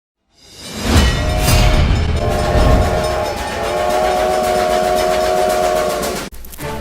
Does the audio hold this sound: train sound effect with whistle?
yes